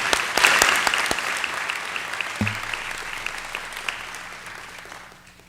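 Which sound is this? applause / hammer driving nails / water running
applause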